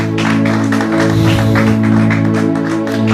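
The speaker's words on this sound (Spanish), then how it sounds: "Dale un fuerte aplauso al Señor." A church congregation applauds in a continuous dense wash of clapping over sustained organ or keyboard tones, loud and steady throughout.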